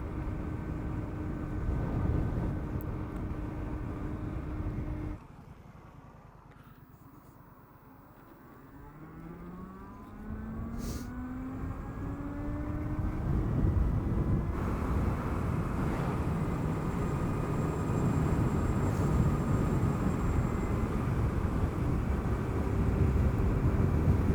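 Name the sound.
Super Soco TC MAX electric motorbike riding at full throttle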